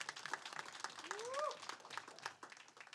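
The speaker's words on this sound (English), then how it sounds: "So go ahead, let's clap for Donna." An audience claps steadily for about three seconds at an entrepreneurial sales talk, a dense patter of hand claps with a brief rising whistle partway through.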